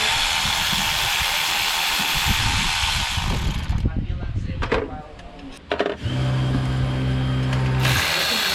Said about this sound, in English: Now I'm going to release this bracket here for the alternator.